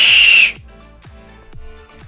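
A sharp, piercing two-finger taxi whistle blasts loud and alone for about half a second, then cuts off into quiet with faint thumping.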